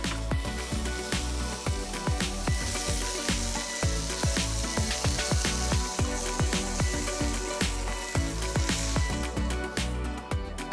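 Marinated steaks sizzle in a pan for taqueria-style beef tacos, a steady close frying hiss under a run of sharp, regular knife chops on a board as tomatoes are finely chopped.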